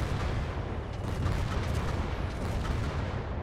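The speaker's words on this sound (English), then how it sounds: "Oh, here's the artillery." Heavy 150 mm artillery fire rumbles through a realistic WW2 game battle, a dense, continuous low roar of spread-out impacts with crackling bursts layered over it and no talking.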